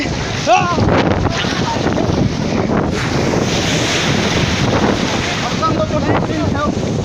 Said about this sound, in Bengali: খুব বড় বড় ঢেউ